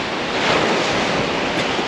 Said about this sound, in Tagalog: Nangangalit ang dagat.